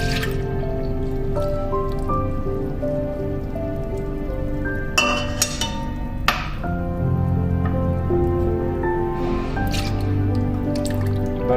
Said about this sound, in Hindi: अब इसमें डालते हैं बटर मिल्क।